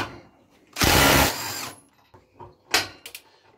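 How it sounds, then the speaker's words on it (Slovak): A cordless power tool set to a 226 Nm mode works to loosen a screw. It gives a loud, close burst of about a second, followed by a softer whir, then a few short clicks and rattles. "vyskúšam tú skrutku povoliť na móde 226 Nm"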